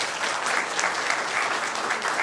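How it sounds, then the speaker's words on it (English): Brief, even applause at a county board of supervisors meeting, a steady wash of many hands clapping without pauses. "And that applause was for you."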